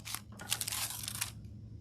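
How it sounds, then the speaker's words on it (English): Crafting foils being pressed and crinkled by hand, a close, quiet burst of dry crackling and rustling that lasts just over a second before fading. "But we're now pressing all these different foils on here."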